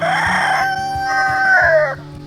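A rooster crows loudly nearby in one long drawn-out call, with a steady rhythmic ticking or tapping underneath.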